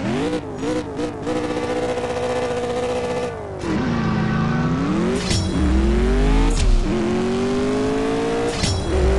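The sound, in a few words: McLaren 650S Liberty Walk race car engine, CSR Racing 2 video game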